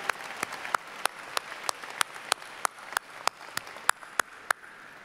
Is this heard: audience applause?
yes